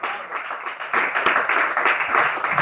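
A church congregation claps and applauds together during a French-language worship service, a dense, sustained wash of hand claps that swells midway and continues steadily, with no voice heard over it.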